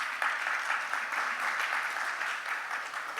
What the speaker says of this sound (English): A big round of applause to our Canadian panelists.